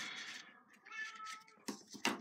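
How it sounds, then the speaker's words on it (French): A cat meows from behind a closed door, drawn-out, whiny cries followed by two sharper calls near the end, faint and muffled with no other sound. "Là, si vous entendez mon chat, c'est parce que j'ai fermé la porte."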